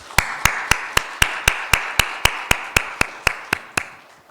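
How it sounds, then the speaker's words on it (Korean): A church congregation at a Sunday service claps in thanks in steady unison, about sixteen sharp, evenly spaced claps that keep a brisk, regular beat with no voices over them. "감사의 박수 한번 하겠습니다"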